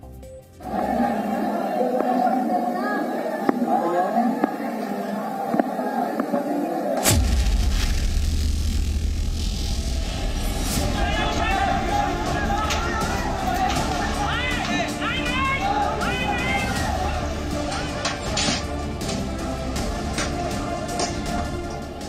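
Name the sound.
crowd of stone-throwers in the streets of Moradabad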